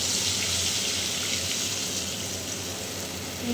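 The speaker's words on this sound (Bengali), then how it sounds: "আমি ঢেলে দিলাম জল" Water pouring steadily into a pan, a loud, continuous rushing splash with no break from start to finish.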